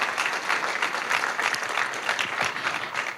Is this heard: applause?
yes